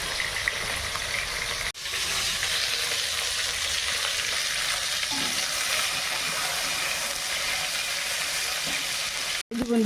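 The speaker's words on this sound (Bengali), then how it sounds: "এই যে মাছ ভাজা হচ্ছে।" Pabda fish rubbed with salt and turmeric fries in heated oil, giving a steady, close, even sizzle that runs nearly unbroken with a brief dip early on and near the end.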